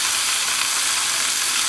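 Salted and peppered pork browns in a pan for homemade Italian sauce, giving off a steady, close, even sizzle with no break.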